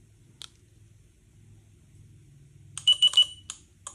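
A keyless car remote alarm from a VRZ system sounds a quick cluster of sharp electronic beeps near the end, after a single earlier chirp and a low hum, fairly close and clear with no talking.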